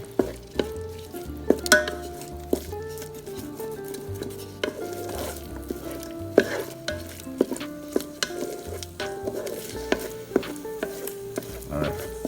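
Egg and rice fry in a Ninja Foodi with a steady, close sizzle, while a utensil scrapes and knocks against the pot in frequent irregular clatters throughout.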